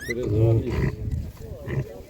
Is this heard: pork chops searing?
no